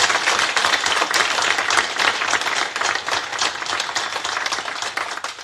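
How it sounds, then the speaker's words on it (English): Steady, loud applause from a forum audience at a social inclusion event, many hands clapping densely for several seconds with no talking. "I think that deserves a round of applause"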